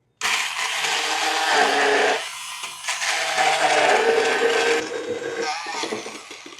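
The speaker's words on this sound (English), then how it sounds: "go ahead and use your immersion blender to start chopping it up" An immersion blender chops raw vegetables including green onions in a container, whirring loudly with a harsh buzzing whine, briefly pausing and restarting, then trailing off near the end.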